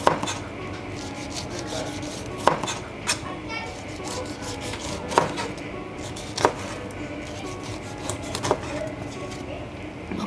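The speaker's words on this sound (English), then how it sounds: "then we just cut into the skin" A knife cuts into the tough skin of a pineapple with several separate crunchy chops and scraping rubs, close and fairly loud, with some background noise between strokes.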